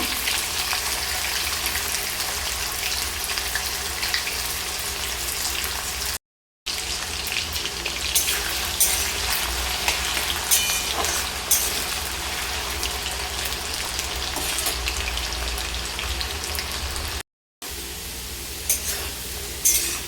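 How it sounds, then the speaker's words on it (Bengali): Potato pieces, cut and washed, fry in a pan for a Bengali drumstick, potato and poppy-seed chorchori, giving a steady, close, broadband sizzle with stirring scrapes throughout, interrupted by two brief silent gaps. "আলুগুলো হালকা একটু লাল করে ভেজে নেব।"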